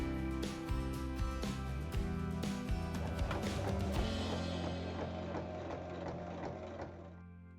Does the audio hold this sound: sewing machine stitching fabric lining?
yes